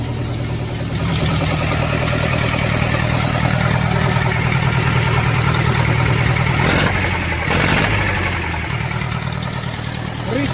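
A vehicle engine with a broken-off exhaust runs loud and rough while hauling potatoes, a steady close rumble that continues throughout with slight shifts in pitch.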